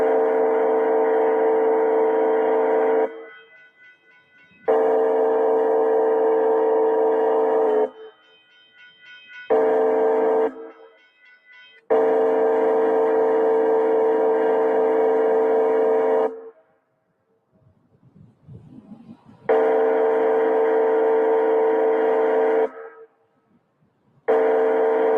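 A Union Pacific train passes a grade crossing while a stationary wayside horn mounted at the crossing blasts loud, sustained tones in several long bursts with brief gaps, and rail rumble can be heard between the blasts.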